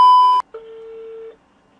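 A telephone placing a call gives a short, loud, clear beep, then a brief gap and a long, steady lower tone lasting nearly a second, close and clean with no voices.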